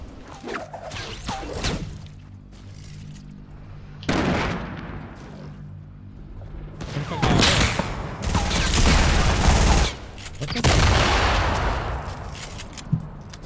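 Bursts of gunfire in Fortnite, scattered shots and rattling volleys coming in waves between quieter gaps, some sharp and close, others more distant, with brief whooshes.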